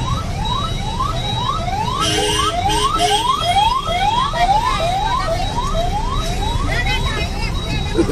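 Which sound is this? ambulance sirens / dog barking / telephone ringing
ambulance sirens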